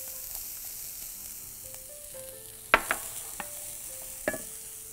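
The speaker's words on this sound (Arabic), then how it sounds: "تشويحه كده هي والثوم" Onion and garlic sautéing in a pan, a soft steady sizzle broken by a few sharp clinks and scrapes of a utensil stirring, close and fairly quiet with no speech.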